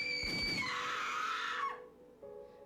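Screams in a horror visual novel video game: a loud, sustained high-pitched shriek for about a second and a half that sweeps down and cuts off, leaving a faint tonal hum.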